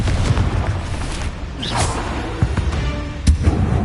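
A Confringo blasting spell explodes in Hogwarts Legacy, with a whooshing burst, a deep boom and a few heavy thuds against loud, rumbling game ambience.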